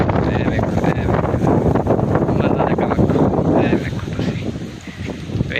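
Strong hot-weather wind blows outdoors, roaring and buffeting loudly against the microphone without pause and easing slightly near the end.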